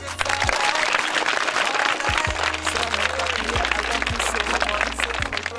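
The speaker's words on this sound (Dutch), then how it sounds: "Vraag het met een applaus." Children applauding during a Dutch-language kids' show, a loud, sustained burst of clapping with a low electronic hum and intermittent thumps underneath, unbroken throughout.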